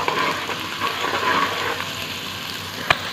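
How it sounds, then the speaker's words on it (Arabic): Half an onion fries in hot oil for koshari sauce, giving a steady close sizzle with light crackling and a sharp clink near the end. "هنزل بقى بالنص بصلاية وهديها تحميرة محترمة يعني"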